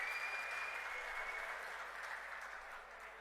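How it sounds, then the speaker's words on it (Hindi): Rally audience applauding at a political event in Kurukshetra, a broad continuous wash of many hands clapping, fairly distant and steady, fading slightly toward the end. "जोरदार तालियां आपकी तरफ से आनी चाहिए।"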